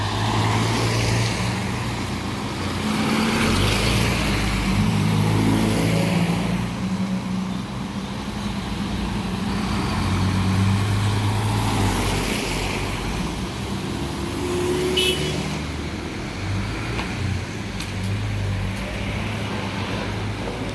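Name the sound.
Swanbrook Irizar bus on route C52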